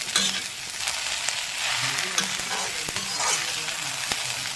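Salt and turmeric being stirred into dhekiya fern bhaji frying in a pan, with a steady close sizzle and scraping stirs throughout, no talking.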